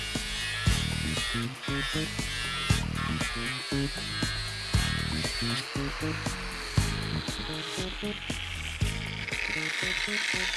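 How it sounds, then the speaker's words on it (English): Angle grinder with a 36 grit ceramic disc on a hard backing pad cutting down a carbon steel weld, a loud continuous high-pitched grinding whine with rhythmic surges and bumps as the disc bites and lifts, no talking. "So to take the weld away, I'll start off with a 36 grit with a hard backing pad."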